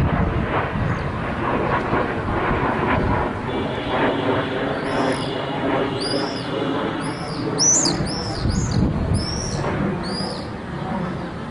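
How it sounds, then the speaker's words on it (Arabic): Military warplanes flying low over the city of Hama, a broad continuous roar of jet noise that swells and recedes overhead, with birds chirping and cooing close by on top. "تحليق طيران حربي منخفض فوق سماء المدينة"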